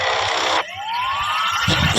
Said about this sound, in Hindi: पीछे पुलिस की जीप, सायरन की गूंज और गोलियों की आवाज से हवा थरथरा रही थी।